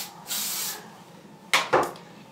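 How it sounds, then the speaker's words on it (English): Two short bursts of shaping hairspray hiss close by, each a quick sharp whoosh, with a softer longer hiss earlier. "And I'm just going to spray that."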